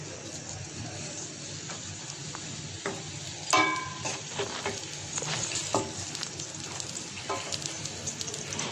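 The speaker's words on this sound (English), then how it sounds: "Now, put the onions and let it cook for some time." Onions sizzling and frying in a pan for chickpea curry, a steady moderate crackle with occasional stirring clinks and scrapes, no talking.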